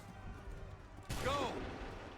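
Musket gunfire in the video game Assassin's Creed III, heard as a single sudden volley partway through after a quiet, murmuring lead-in, fairly distant and followed by a brief rumbling tail.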